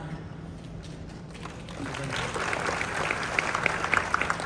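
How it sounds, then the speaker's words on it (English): An audience at a business event in Clark breaks into applause. It starts quietly and swells into steady clapping from many hands over a soft murmur of voices. "Let's give him a round of applause."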